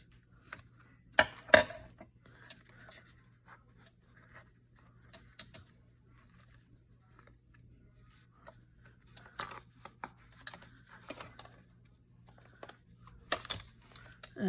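Paper being cut for a die-cut mask journal folder: quiet, close snips and crisp ticks scattered irregularly, with a denser flurry of cuts toward the end and a faint steady hum underneath.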